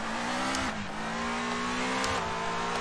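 Race car engine from the iRacing simulator on the Pikes Peak course, a steady droning whine that holds its pitch, dips briefly twice and rises again, with no voice over it.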